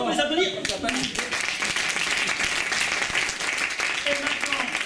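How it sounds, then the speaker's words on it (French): An audience claps steadily in a lively burst of applause for musical comedy performers, with a voice speaking over it at the start. "on peut les applaudir."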